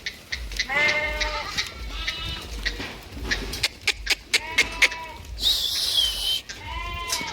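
A flock of goats bleats repeatedly while being shut into a pen in a village, overlapping nearby calls with shuffling in between.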